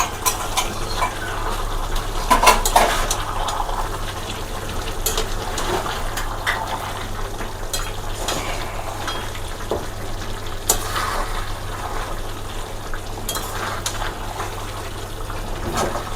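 Mutton stirred in a cooking pot after it has released its own water. The liquid bubbles and sizzles softly while occasional scrapes and clinks of the spoon come through up close, with no talking.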